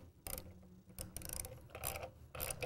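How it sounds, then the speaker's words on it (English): A fan nut being tightened with a fixation tool gives faint ratcheting clicks and mechanical rattles in three or four short bursts, close but quiet, with no speech. "With our fixation tool, again, we will apply it and"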